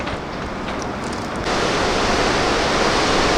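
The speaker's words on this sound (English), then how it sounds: "Well, I see we have a lot of rapids going on here." Roaring river rapids at Falls View Park in Saint John, New Brunswick, a steady broadband rush of churning water that grows louder partway through and continues alone without speech.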